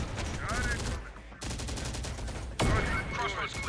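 Bursts of gunfire in the game Terminator: Dark Fate - Defiance, several sharp volleys broken by a brief lull, with a louder burst near the end and game radio voices talking over the shooting.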